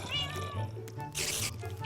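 A cat meows insistently up close, a drawn-out wavering cry followed by a brief hiss-like burst, with faint voices in the background.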